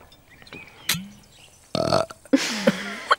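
A person swallows air and forces it back out as a deliberate burp, giving several loud, close, guttural belches in quick succession with short quiet gaps between them.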